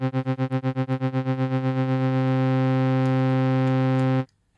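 A steady buzzy synth tone pulses rhythmically in volume from an LFO, the wobble fading into a smooth sustained drone before cutting off abruptly near the end.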